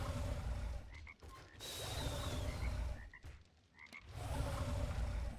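A chorus of frogs croaks in the survival game 7 Days to Die, a loud, near rasping chatter that dips briefly twice before swelling again.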